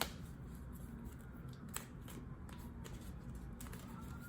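Tarot cards being shuffled by hand, a soft continuous riffling with sharp snapping flicks at irregular intervals, close and quiet with no talking.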